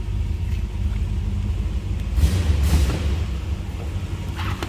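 A 1964 Chrysler 300 convertible's 383 V8 idles close by with a deep, steady rumble, a brief swell in loudness midway before settling back to a constant low throb.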